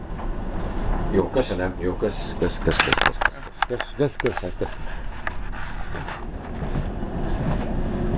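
Rumble and rattle of a clean passenger train riding toward Vienna, steady wheel and carriage noise throughout, with people talking briefly over it.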